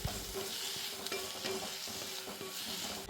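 A chili mixture stirred in a hot cooking pan, with scraping, clacking strokes of the spoon over a continuous sizzle of frying, close and clear with no talk.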